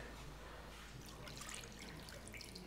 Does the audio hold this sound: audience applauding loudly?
no